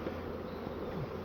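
Honey bees buzzing around hive frames during a hive inspection, a steady, close, continuous drone of many bees with no talk.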